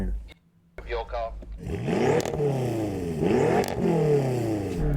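BMW M5 engine revving hard in a sound check, a sweeping rise-and-fall roar repeated in two or three pulls after a brief quiet moment, loud and close.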